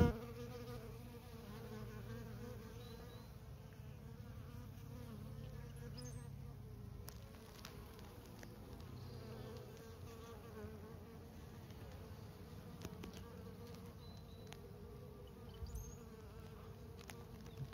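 Honey bees fill a queen mating nuc with a steady, close hum of buzzing, with individual bees droning past the microphone now and then.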